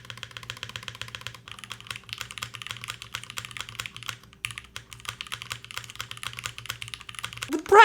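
Steady rapid typing on a Teton 78 mechanical keyboard with a brass plate and milky yellow switches, a dense patter of close clicky keystrokes with a low hum underneath and a louder knock at the very end.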